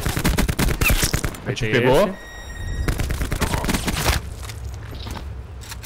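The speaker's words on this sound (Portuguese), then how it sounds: "eu não tô vendo ele, mas tô ouvindo o tiro" Rapid bursts of gunfire crackle in a shooter video game, dense volleys near and loud with a brief lull, while players talk over the shooting.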